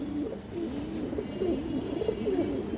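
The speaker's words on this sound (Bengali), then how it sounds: "এই যে মাদি কবুতরটা দেখেন আগে" Female pigeon cooing, soft low rolling coos repeated in a gentle rhythm, close by, with faint chirps from other birds in the background.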